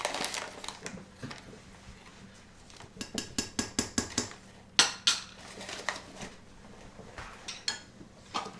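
Cornstarch mixture for caramel sauce being stirred with a utensil in a dish, quiet scraping followed by a run of light rhythmic clinks and taps against the bowl.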